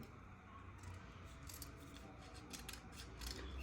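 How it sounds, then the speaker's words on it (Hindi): Scissors snip paper strips during electric fan coil winding work, giving a run of quick, close, crisp cuts at a low, steady level. "अब मैं इन्हें छोटा कर लेता हूँ, बारीक कर लेता हूँ कैंची की मदद से"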